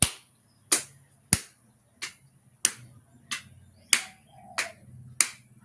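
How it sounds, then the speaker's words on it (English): Single sharp hand claps in front of the body during a morning exercise routine, about nine crisp claps spaced roughly every half second to a second, close and isolated with quiet between them. "Clap in the front."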